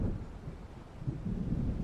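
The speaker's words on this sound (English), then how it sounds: "It seems there's a storm coming." Thunder from an approaching storm in the video game Alan Wake, a low rolling rumble swelling toward the end, with a faint rain-like hiss beneath and no talking.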